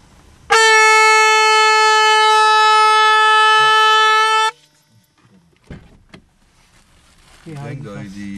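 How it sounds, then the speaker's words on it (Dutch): A loud, steady vehicle horn blasts continuously for about four seconds in a Monster Jam parking lot at the GelreDome in Arnhem, followed by quieter shuffling noises and people talking. "We hebben een toeter."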